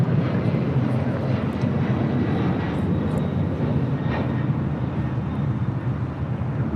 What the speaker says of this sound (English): This is Delta 535 taking off to JFK on a 767-300ER.